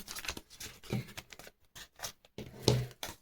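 Crinkling and tearing of a small paper surprise packet being opened close up, with scratchy rustles and a sharper rip near the end.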